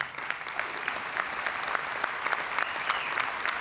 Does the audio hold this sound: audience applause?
yes